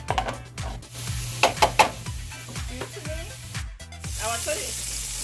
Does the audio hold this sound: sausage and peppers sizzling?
yes